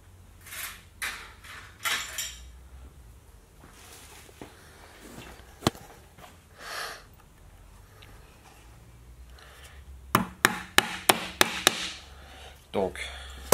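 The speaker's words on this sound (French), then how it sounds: "Donc, un petit coup de marteau ici." Small hammer tapping small nails into a wooden slat on a domed trunk, a few sharp knocks at first, then a quick cluster of close, crisp taps toward the end amid handling noise and faint background voice.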